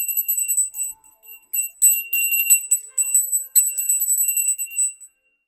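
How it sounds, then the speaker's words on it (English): A bell rings in bright, high, repeated bursts, shimmering strikes coming in uneven clusters with brief gaps, loud and close, then fading out at the end. "I forgot to ring my bell before when I was setting up"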